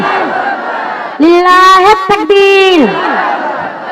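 A crowd at an outdoor religious sermon gathering roars the takbir in unison, a loud sustained collective shout lasting a couple of seconds after a preacher's voice, then fading back to his speech.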